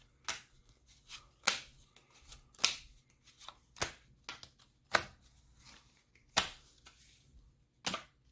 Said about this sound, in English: Okay, now I'm going to cut this.